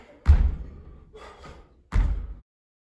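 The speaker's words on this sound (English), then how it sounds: "We're jumping sideways now." Feet landing on a floor during sideways jumps in a home PE exercise: two heavy, close thuds separated by about a second and a half, with quieter shuffling between them.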